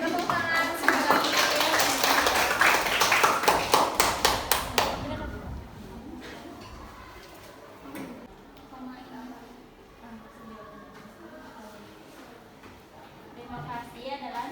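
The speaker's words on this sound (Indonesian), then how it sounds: "Tepuk tangan sekali lagi." A classroom audience applauds in a short, dense burst of claps. A few distinct final claps follow before it fades into a quiet room where speech carries on.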